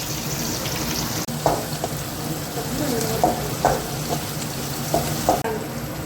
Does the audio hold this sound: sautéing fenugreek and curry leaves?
yes